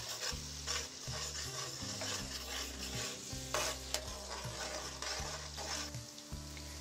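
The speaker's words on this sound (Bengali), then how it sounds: "এখন এই আদা রসুনের পেস্টটাকে আমি হালকা ভেজে নেব এই তেলের মধ্যে।" Ginger-garlic paste frying gently in oil over low heat for a shrimp biryani, a soft sizzle under repeated scraping strokes of a spoon in the pan, quiet and close.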